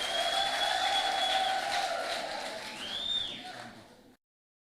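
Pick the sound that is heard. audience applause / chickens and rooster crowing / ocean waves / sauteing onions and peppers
audience applause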